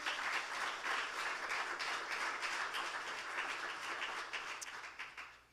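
Applause from a church congregation during a Spanish-language sermon, a steady distant wash of many hands clapping that tapers off at the end.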